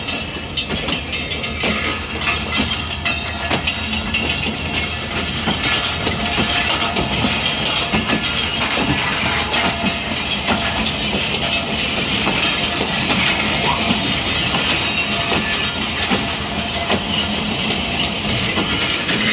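Khyber Mail passenger train running toward Multan Cantt station, a steady loud rumble with rhythmic clickety-clack of wheels over rail joints, continuous and close with no talking.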